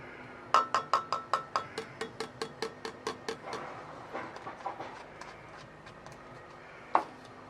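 A stick stirs glycerine and hot water in a glass container, clinking against the side in a steady run of about fifteen sharp taps that gradually fade, followed after a pause by one last clink.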